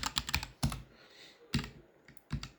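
Quick bursts of keystrokes on a computer keyboard while writing a short piece of Python code, several clustered clicks separated by brief pauses, close and fairly quiet with no talking.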